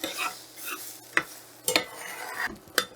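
Eggs being stirred in a hot wok, a few sharp scrapes and clinks of the utensil against the metal over a soft sizzle, close and fairly quiet with no voices.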